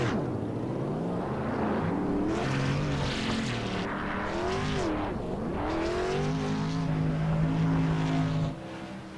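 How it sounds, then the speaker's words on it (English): Modified race car doing a victory burnout on the front stretch at Rockingham Speedway, its engine a loud, continuous revving roar with rising and falling pitch sweeps close by, held for several seconds before dropping off at the end. "come for a little victory burnout here in the front stretch"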